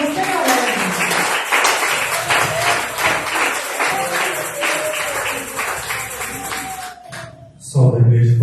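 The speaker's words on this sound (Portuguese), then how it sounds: "Recebe o servo do Senhor com as palmas" Church congregation clapping in rhythm to welcome a preacher, a steady pattern of many hands beating together indoors with voices mixed in, ending in a brief louder burst.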